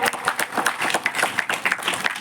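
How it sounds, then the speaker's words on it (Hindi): A gathering at a religious ceremony honouring a revered guru claps in a loose, brisk burst, the individual hand claps distinct and fairly close. "जोरदार ताली हो जाए"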